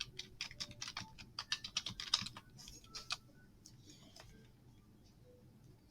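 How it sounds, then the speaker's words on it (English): Rapid keystrokes on a computer keyboard, a quick irregular burst of close clicks for about three seconds before tapering off to quiet. "So I'm going to type in my topic"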